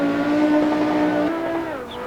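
An Audi rally car powers along a rally stage, its engine note holding high and steady, then dipping as revs change mid-run, loud and close with no voices.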